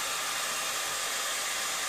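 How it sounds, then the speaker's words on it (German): A hair dryer blows a steady, loud, unbroken hiss of warm air at close range over the crease of a Tefifon tape cassette, with no pauses or voices. "massieren den Knick mit dem Föhn schön warm"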